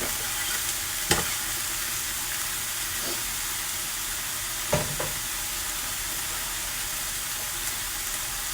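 Garlic sizzles steadily in a pan of hot oil before minced lamb goes in for a lamb-filled wholemeal bread, with a few sharp clinks of stirring over the constant frying hiss and no talking.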